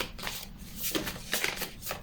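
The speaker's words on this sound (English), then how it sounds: "I'm going to live shuffle from the Light Seers Tarot Spirit for group 1" Light Seers tarot deck being shuffled by hand, a soft continuous riffle of card stock with repeated brushing bursts, close and fairly quiet, no talking.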